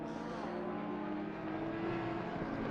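Race cars in the ACC sim racing game, Acura NSX at the Hungaroring, roar steadily past with continuous, dense engine noise throughout.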